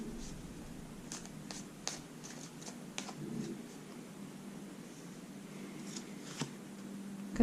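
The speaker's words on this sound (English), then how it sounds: "A couple more shuffles here." Tarot cards are shuffled softly in a quiet room, with scattered light riffles and card snaps over a low, steady background hum; no talk.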